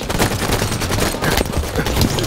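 Dense, continuous gunfire from a Halo 5 Assault match in the Hammer Storm update, with overlapping rapid bursts and shots sustained at high loudness throughout, and no talk.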